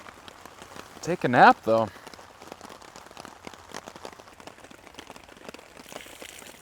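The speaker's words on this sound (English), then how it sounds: "if it's going to be downpouring like this" Heavy rain pours down around a hammock setup, a steady dense patter throughout, with a person briefly speaking near the start.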